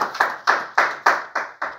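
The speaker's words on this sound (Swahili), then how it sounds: "Makofi mengi kwa Bwana wa mabwana na mfalme wa falme Yesu Kristo." Congregation in a church service clapping together in slow, unison claps, about seven evenly spaced sharp bursts, close and clear with no talk.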